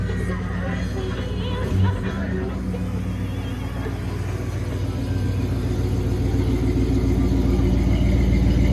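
A 1967 Oldsmobile Cutlass engine runs at idle with a deep, steady low rumble that swells slightly toward the end, heard close and without talk.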